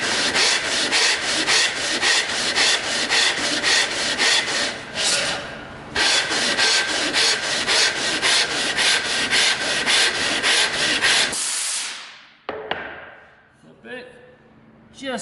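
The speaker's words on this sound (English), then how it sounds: "So you're actually sanding 3 sides" Sandpaper rasps against wood in quick, rhythmic back-and-forth strokes on a cut-off lid, close and steady, then stops, leaving a few soft knocks and quiet handling sounds.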